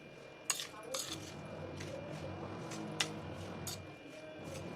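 Grated raw mango being tossed and mixed in a bowl, with a spoon or utensil clinking against the dish in a few sharp taps over a soft, steady rustle.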